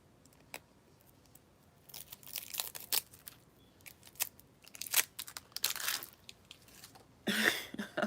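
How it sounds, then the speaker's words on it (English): Crinkling and tearing of packaging as a new deck of cards is opened, with scattered rustles and crackles close by, growing busier and louder toward the end. "they have me opening up this deck"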